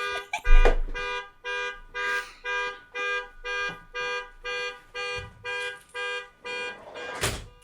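A car horn honks in a steady repeating rhythm, about a dozen evenly spaced blasts, slightly muffled as if heard from indoors, with a thud near the start.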